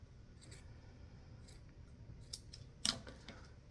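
Scissors snipping off the bottom part of a craft piece, a few soft close cuts followed by one sharper, louder snip near the end, against quiet room noise with no talking.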